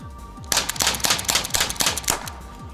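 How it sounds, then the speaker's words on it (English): An Umarex T4E TR50 CO2 paintball revolver fires six rapid shots in quick succession, each a sharp close crack spaced about a third of a second apart. "Next up, I'm going to see just how fast I can rattle off 6 shots with this thing."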